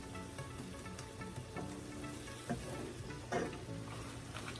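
Plant-based ground beef sizzles and crackles in a hot pan, a steady quiet frying hiss with occasional louder pops and stirring scrapes.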